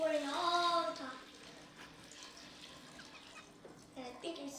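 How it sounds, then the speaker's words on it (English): Water poured into a coffee maker: a soft, steady splashing flow follows a brief young voice at the start, with faint voice sounds returning near the end. "step one, you have to put water in there"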